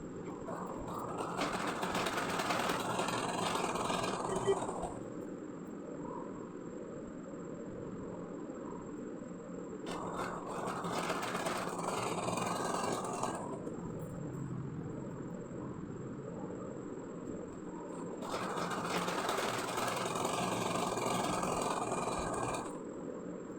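A sewing machine stitches pajama pants with a loose binding strip at the drawstring waist, running in three steady mechanical bursts of several seconds each, with quieter pauses in between.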